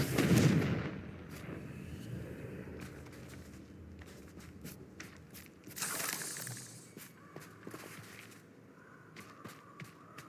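Confringo fire spells blast repeatedly in the game Hogwarts Legacy, sharp bursts over a rumbling, busy combat background with scattered impacts, no talk.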